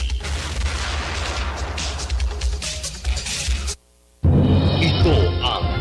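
A booming cannon-fire effect inside a radio station jingle, loud blasts layered over music and an announcer's voice, a brief silent break, then another burst of heavy noise.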